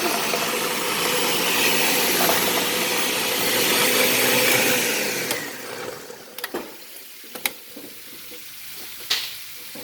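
A kitchen blender runs loudly and steadily, a dense whirring roar that stops about halfway through, leaving scattered clicks and clunks of the jar being handled in a kitchen where oxtail stew is being made.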